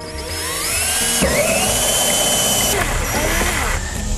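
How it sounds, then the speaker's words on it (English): A 1-inch hole saw cuts a hole near the bottom of a plastic rain barrel drum, giving a loud, steady whining grind that runs the whole time with shifts in pitch as it bites. "we'll cut the hole for the silcock or the spigot. That's with the 1 inch. 1 inch hole saw"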